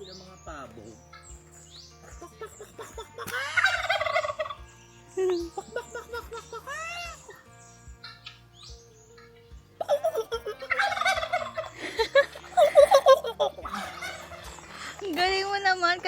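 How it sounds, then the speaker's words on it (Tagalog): Turkeys gobbling on a provincial farm, several bursts of rapid warbling gobbles near and loud, separated by quieter stretches with people talking softly in the background. "meron din sila mga pabo"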